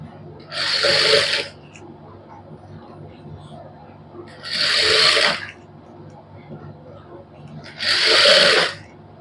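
A sewing machine stitches lace onto a salwar suit in three separate bursts of about a second each, loud and close, with quiet pauses between.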